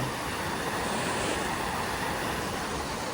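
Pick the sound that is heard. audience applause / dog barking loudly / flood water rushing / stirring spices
flood water rushing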